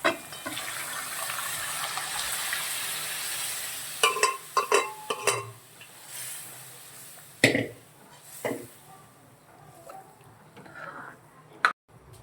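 Spices sizzle quietly in a pan, then a wet splash and several clattering stirs as boiled mixed lentils for panchratna dal are tipped in, followed by softer scraping.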